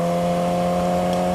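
A motorcycle engine drones steadily while downshifting during street riding, a close, continuous hum with strong even tones and no talking.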